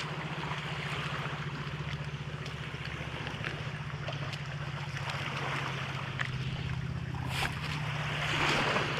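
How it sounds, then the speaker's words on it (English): Waves wash onto a rocky resort beach on Siquijor in the Philippines, a continuous soft surf hiss with a low steady drone beneath and a brief louder splash near the end. "So this is their little beach."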